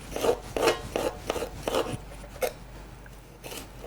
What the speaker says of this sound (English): or you put it this way and cut it from this angle, depending on the size of your green pepper